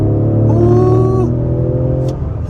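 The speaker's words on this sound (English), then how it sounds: "I like those downshifts. They sound snappy." 2023 Ford Explorer ST engine revving on a downshift into third gear, a loud rising engine note that blips up sharply, then settles into a lower steady drone as the revs fall.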